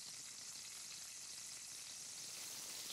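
Tempeh chorizo spice blend toasts in a frying pan, giving a soft, steady hiss of sizzling that stays even and faint throughout, with no voices.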